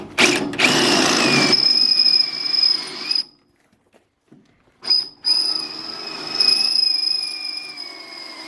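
A power drill fitted with a guide whines at high speed drilling outboard motor mounting holes in a boat, stops for about two seconds, then starts again and runs steadily. No voices are heard.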